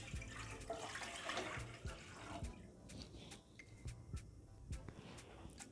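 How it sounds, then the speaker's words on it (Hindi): Water pours into a cooking pot in a home kitchen as the syrup for a jaggery semolina halwa is started, a faint splashing trickle with small clinks and knocks, quiet and close. "बर्तन में पानी डाल देंगे।"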